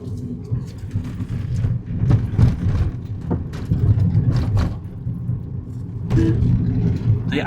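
Car engine droning steadily inside a manual-transmission car climbing a narrow, curving hilly road in third gear while overtaking a slower vehicle, with a continuous low rumble and some cabin bumps.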